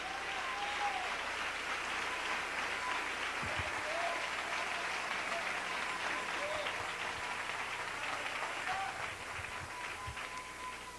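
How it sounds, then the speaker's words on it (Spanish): A church congregation at a Spanish-language service applauds, producing a dense, steady wash of clapping that fills the whole stretch at an even level and eases off slightly near the end. "Dele ese aplauso al Rey."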